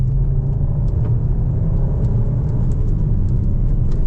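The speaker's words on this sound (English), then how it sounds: "as you can probably hear, the engine revs are pretty high" A 2026 Skoda Kodiaq RS engine in sport mode drones steadily at high revs, a continuous loud rumble and whir from inside the vehicle with no letup.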